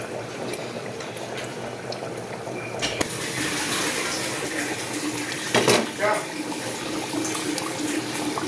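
Covered pot of vegetables simmering for a paneer curry, giving a steady close bubbling and hissing boil throughout, with a brief clatter near the middle and no talk.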